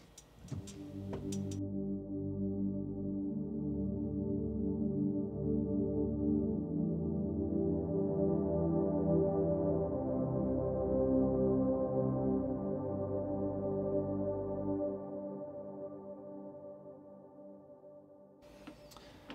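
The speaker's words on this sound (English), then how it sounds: "here is an example of what pad sounds might sound like" A sustained ambient keyboard pad swells in with soft, layered chords that hold steadily and fade out gently, played alone without voices.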